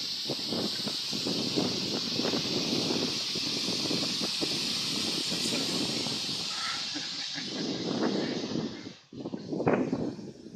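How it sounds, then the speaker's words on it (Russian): Steady wind blows with a constant hiss and rustling, broken by a few louder gusts and thumps near the end. "Видишь, как ветер поднялся?"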